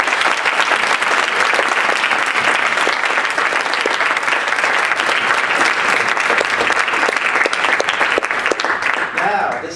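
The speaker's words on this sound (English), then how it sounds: "give a round of applause and a praise to all the speakers and spoken" A loud, sustained round of applause from an audience honouring speakers and spoken word artists at a panel discussion fills nearly ten seconds, dense and even, with some crowd voices mixed in.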